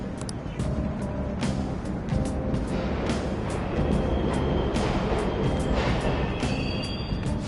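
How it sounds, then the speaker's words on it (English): Subway trains running in the Persona 5 Royal video game, a continuous loud rumbling roar with whooshing noise and faint tonal whines, steady throughout. "The trains are totally running!"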